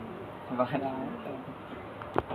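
Pigeons in a collection of birds for sale coo softly in low, rolling bursts, with a brief sharper sound near the end and a voice speaking over them.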